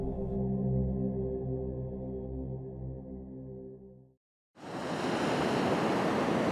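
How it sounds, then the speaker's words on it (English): Ocean surf at Fort Tilden, a former army base on the New York City shore, rolls in as a loud, steady broadband wash, dropping out briefly before surging back, with no voices. "There's the ocean"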